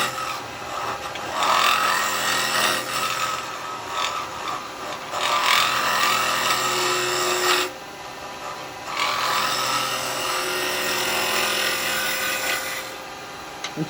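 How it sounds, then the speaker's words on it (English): A 9mm carbide woodturning tool push cutting a live edge wood piece on a lathe, a continuous rough scraping hiss in long bursts with brief drops between passes and a steady motor drone beneath, close and alone. "With the 9mm I can push cut with it, even though I'm using it flat, I can still push it in."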